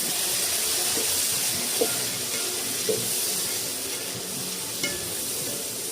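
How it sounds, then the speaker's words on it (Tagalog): Shrimp frying at high heat in buttered garlic, a steady close sizzle throughout with a few soft clinks of a utensil against the pan. "We can add the shrimp now and cook it at high temperature hanggang maging orange."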